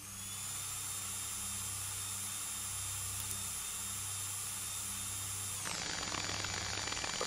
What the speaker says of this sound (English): I have to turn the drill on